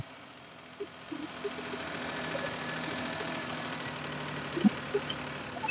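A car engine idles steadily with a low, even rumble, and a few faint clicks and knocks sound over it.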